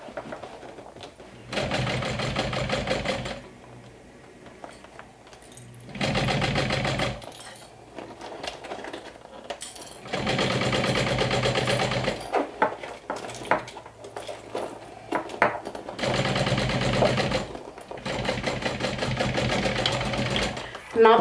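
A sewing machine stitches across the top of a handmade saddle-style crossbody bag in repeated loud, steady bursts, stopping and restarting several times, with a faint voice in the gaps.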